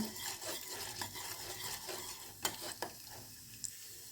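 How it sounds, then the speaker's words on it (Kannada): Chana dal and urad dal frying gently in oil on low heat, a faint steady sizzle with occasional scraping stirs, quiet and close, no talking. "ಇದನ್ನು ಸ್ವಲ್ಪ ಕಡಲೆಬೇಳೆ ಉದ್ದಿನಬೇಳೆ ಎರಡನ್ನೂ ಸ್ವಲ್ಪ ಲೈಟಾಗಿ ಗೋಲ್ಡನ್ ಬ್ರೌನ್ ಆಗೋ ತನಕ ಹುರಿತೀನಿ"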